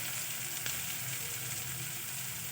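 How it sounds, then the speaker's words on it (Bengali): Spice masala for an eggplant bharta sautés in a pan, giving a steady, even sizzle throughout with one light clink of a utensil. "মশলাটাকে আমি দেবো একটু কষিয়ে নেব"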